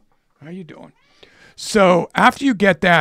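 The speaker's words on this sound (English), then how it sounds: "guys, that's my cat" A pet cat meows close to the microphone, a couple of short calls early on, and then someone speaks briefly over and after them.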